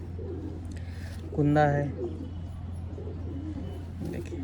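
A pigeon gives one short, close coo partway through, with someone speaking nearby before and after it.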